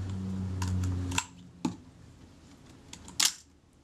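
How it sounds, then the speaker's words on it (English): A Retina Reflex S camera fires its shutter on B with a cable release: a sharp mechanical click, a second click about half a second later, then another clack near the end, all close up in a quiet room. "Fire the shutter."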